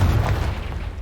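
A Confringo spell blast in Hogwarts Legacy lands as a single deep, loud boom that decays over about a second, with no voices.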